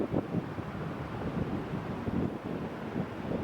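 Gusty wind buffets the microphone on the coast beside the Irish Sea near a boardwalk, a low blustery rumble with uneven bursts and faint surf-like wash, moderately quiet, with no talking.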